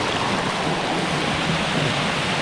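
Continuous rushing of a mountain stream in Kodaikanal, icy water flowing steadily close by, broadband with no voices.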